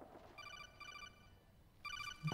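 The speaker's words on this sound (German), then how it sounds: "Telefon." Repeated electronic telephone ringtone in the video game Metal Gear Solid 4, two bursts of trilling rings separated by a short pause, fairly loud and alone with no talk.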